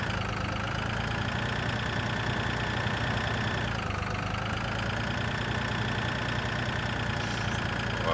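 A tractor engine in the Farming Simulator 2013 video game runs as the vehicle drives, a loud, steady mechanical drone with a dense knocking texture that holds unbroken throughout, dipping briefly in pitch midway.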